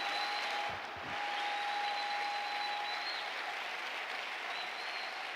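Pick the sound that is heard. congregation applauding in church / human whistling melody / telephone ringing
congregation applauding in church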